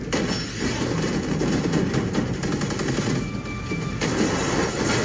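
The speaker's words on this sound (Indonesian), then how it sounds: "Mereka dihadang dan aksi baku tembak dimulai." Gunfire in a firefight gives dense, rapid crackling shots that run on continuously and overlap under a constant rumbling din, loud and chaotic.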